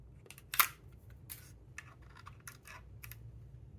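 Keys on a non-Apple computer keyboard clack in quick, irregular taps at close range, fairly quiet in a still room, with no talking.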